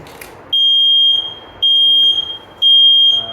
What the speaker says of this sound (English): Smoke alarm in the hallway